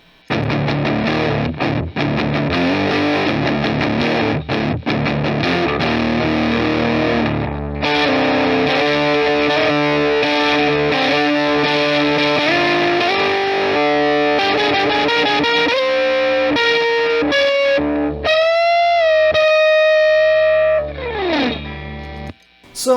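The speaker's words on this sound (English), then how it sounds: "It's a distortion pedal. It sounds distorted" An electric guitar played through a Behringer Heavy Metal HM300 distortion pedal, loud and gritty, with chugging chords giving way to a long, wavering sustained lead note near the end.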